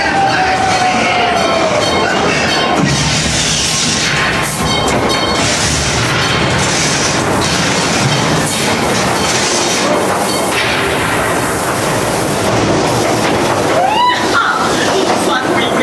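Mine train ride at Knott's Berry Farm rumbling along its track with loud blasting effects, a continuous dense roar with booms and rattles, while a recorded voice shouts over it.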